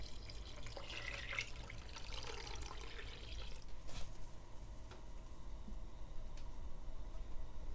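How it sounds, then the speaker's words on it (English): Beef stock poured into a pot of French onion soup, a faint steady liquid splash and trickle lasting several seconds, soft and close with no voices. "Add 5 more cups of beef stock."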